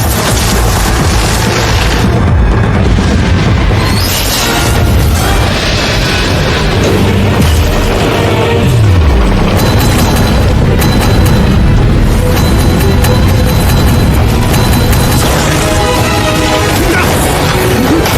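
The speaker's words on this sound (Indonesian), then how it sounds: "Mereka memanfaatkan bom asap seperti saat melawan kakaknya Daimube." Loud booms and crashing bursts from a smoke bomb going off during an animated Douluo Continent battle, with impacts and blasts layered continuously over dense fight sound effects and music.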